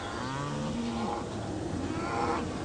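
Dairy cows on a farm, a close cow giving a low, wavering moo followed by softer lowing and a second call near the end, against steady barn background noise with no talk.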